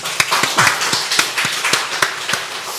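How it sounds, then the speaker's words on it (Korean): A church congregation at a morning worship service claps in welcome, sharp scattered claps at an uneven pace that ring out sporadically in a reverberant hall rather than building into sustained applause. "서로를 또 환영하는 박수 한번 치겠습니다"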